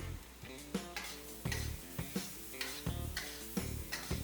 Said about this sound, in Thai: ผัดอีกสักครู่หนึ่งนะครับ